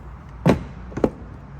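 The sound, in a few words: Harley-Davidson saddlebag latches being operated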